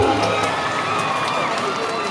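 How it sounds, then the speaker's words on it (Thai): A crowd at a school sports games claps for children after their exercise display, a dense, continuous roar of applause mixed with cheering and children's shouts. "ปรบมือให้น้องๆหน่อย"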